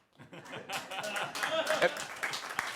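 A studio audience breaks into scattered clapping that quickly thickens into steady applause, mixed with a few chuckles and a voice speaking over it.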